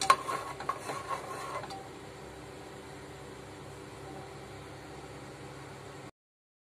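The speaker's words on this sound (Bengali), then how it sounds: "কেওড়ার জলটা দিয়ে আমি একটু ভালো করে মিশিয়ে নিচ্ছি।" A spoon scrapes and clatters through mutton curry in a pot after kewra water is added, a few close strokes at first, then a steady soft sizzle alone.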